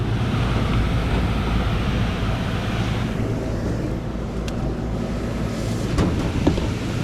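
A Rheem gas pack HVAC unit runs steadily after a repair, its broadband whooshing airflow and low mechanical hum continuing without a break, with a few faint clicks near the end.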